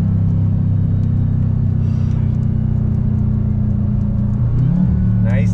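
A 2021 Dodge Durango Hellcat's engine rumbles deeply at close range and then downshifts with a quick rise and dip in pitch near the end, the steady low drone continuing throughout.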